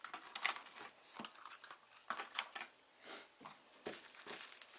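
A plastic Ziploc bag is handled close up, giving a string of quiet crinkling and rustling bursts with short pauses between them and no talking.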